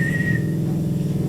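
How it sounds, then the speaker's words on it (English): A single high whistle held steadily for about half a second over a dense, droning low rumble, then fading out while the rumble carries on underneath. "she began a series of loud whistles"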